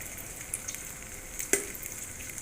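Onions frying in hot ghee give a steady, close sizzle with soft crackles and one sharper pop, and no one speaks.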